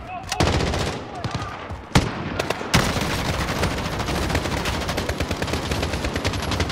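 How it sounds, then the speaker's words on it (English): Gunfire in Call of Duty: Modern Warfare: a few sharp single shots give way to sustained, close, loud automatic fire that rattles on continuously to the end. "I'm just firing on these guys."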